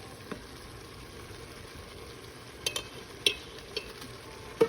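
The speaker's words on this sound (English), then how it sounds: "And we're going to stir that in" A spoon stirs about a quarter cup of flour into a pot of cheeseburger soup. The stirring is quiet and steady, with a few faint scrapes and soft knocks against the pot.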